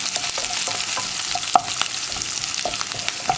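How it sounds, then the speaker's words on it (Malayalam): Chopped onions being stirred in a frying pan give a continuous frying hiss broken by sharp scrapes and clicks of the spoon against the pan, close and fairly loud, with no talking. "ഒന്ന് ഇളക്കി മിക്സ് ചെയ്തെടുക്കുക"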